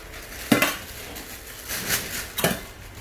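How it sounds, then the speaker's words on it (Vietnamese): A stainless steel cooking pot weighing about 1 kg is handled, giving two sharp metallic clanks plus a softer scrape between them, close by, with no talking. "Đây là cái nồi, cái nồi rất đẹp nha anh chị"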